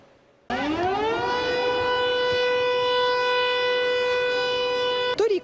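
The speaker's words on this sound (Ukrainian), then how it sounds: "на Черкащині тестують нову систему оповіщення під час атаки безпілотників" Air raid alert siren sounds during a test of a new district-level warning system in Cherkasy region, Ukraine: a loud, steady wail that rises in pitch, holds for about five seconds, then cuts off with a brief clatter.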